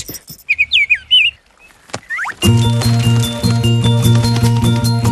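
Cartoon bird chirps in quick, high, whistly tweets and a couple of sliding calls, followed by a bright animated music cue with plucked, rhythmic notes.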